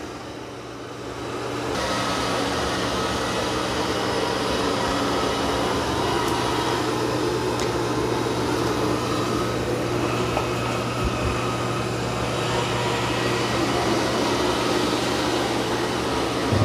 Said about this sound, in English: this is doing a really good job vacuuming this carpet